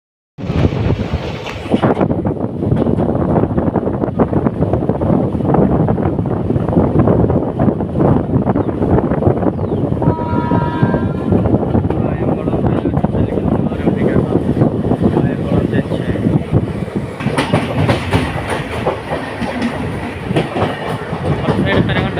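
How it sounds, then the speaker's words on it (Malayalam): A passenger train pulls out after a one-minute halt at Haripad station in Kerala, a loud, steady rumble of wheels and wagons with rhythmic clickety-clack and wind buffeting throughout, heard from on board. "ഹരിപ്പാടിൽ നിന്ന് 1 മിനിറ്റത്തെ ഹോൾട്ടിന് ശേഷം നമ്മുടെ വണ്ടി വിട്ടു കിട്ടാം"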